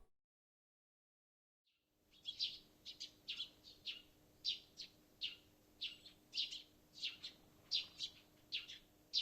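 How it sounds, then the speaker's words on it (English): Small birds tweet outside a window in the Steins;Gate visual novel, with quick chirps repeating steadily about twice a second after a moment of silence, soft and light over faint background hiss. "I hear the tweeting of small birds outside the window."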